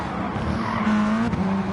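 Race cars in a racing video game at Fuji, engines droning with a brief tire squeal in the middle, fairly close and without voices.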